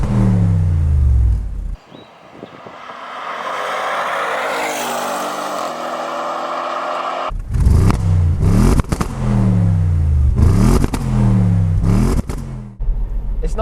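Stock Audi RS7 engine revving: a loud blip and drop, then a sustained climbing wail, followed by a rapid series of sharp repeated revs with crackling between them, close and aggressive.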